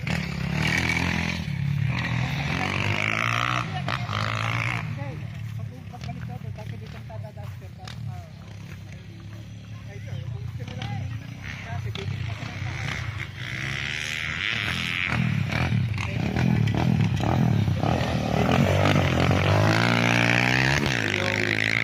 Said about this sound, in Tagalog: Ang ating motor.